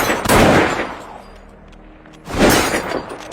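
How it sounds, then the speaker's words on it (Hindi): Gunfire in a movie scene, from an elderly landlord's gun: two loud, booming reports about two seconds apart, each leaving a lingering tail, with no speech. "तभी अचानक एक गोली चलने की आवाज आई जिसने उसके पिता के हाथ रोक दिए।"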